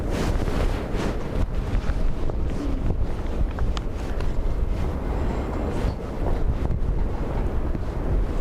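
Strong storm wind at Dublin Airport during Storm Bram, roaring gusts buffeting the microphone in a steady, loud rush that never lets up.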